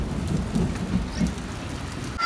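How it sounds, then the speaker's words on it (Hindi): Steady heavy rain pours without a break in the Swat hills of Malam Jabba, Pakistan, a dense constant hiss with low rumbling underneath and no voices. "यहाँ पे मुसलसल बारिश हो रही है"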